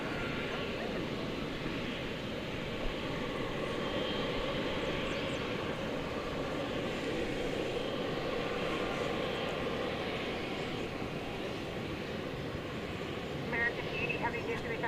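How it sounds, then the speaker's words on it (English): An Iberia Airbus A330-300 airliner taking off at DFW Airport gives a steady, far-off engine roar and rumble throughout, with a voice speaking over it. "The Iberia flight, it's an A330-300."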